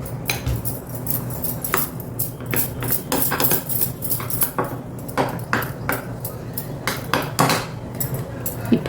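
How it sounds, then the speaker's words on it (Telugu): A spoon stirs a thick carrot, coriander, salt and cumin batter for gunta punugulu in a metal bowl, with repeated close clinks and scrapes in an irregular rhythm and no talk. "ఇది చక్కగా కలిపేసేసుకోండి."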